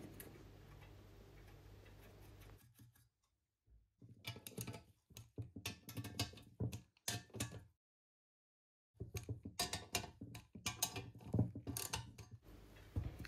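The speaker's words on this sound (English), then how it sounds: "So the next thing I do is turn it upside down and lightly do up the crankcase nuts." Crankcase nuts on a Millyard Kawasaki S1 four-cylinder engine being lightly done up by hand, heard as close, quick ratcheting clicks in bursts with two brief pauses.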